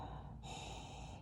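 A deep, steady inhale through the nose over essential oil cupped in the hands, a close, breathy rush of air lasting about a second with no talking.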